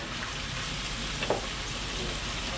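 Dried penne pasta goes into a pot of boiling water on a kitchen stove, a steady bubbling hiss with a brief splash and clink in the middle, close and alone without talk.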